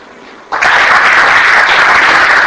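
An audience of young people at a communication skills session in Hyderabad bursts into clapping on cue, a sudden loud onset after near-silence, then a sustained dense roar of hands that holds steady to the end.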